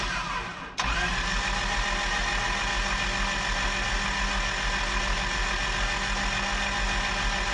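A 1997 Toyota Tacoma with a 2RZ-FE engine and a failed oil pump: a sharp click, then a steady, even mechanical drone of the starter cranking, continuous for several seconds with no talk.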